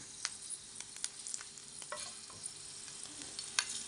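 Dried squid frying in a pan, a steady sizzle with scattered sharp pops and crackles of oil, close and continuous with no talk.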